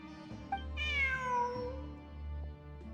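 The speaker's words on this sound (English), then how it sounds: "Look, a cat." A cat meows in Genshin Impact, one drawn-out meow with a rising then falling pitch. It sits over steady game background music and no one speaks.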